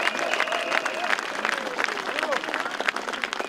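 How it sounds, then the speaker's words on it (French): A crowd applauding steadily, dense clapping that fills the space, with a few voices calling out over it. "on peut les applaudir aux organisateurs et aux bénévoles"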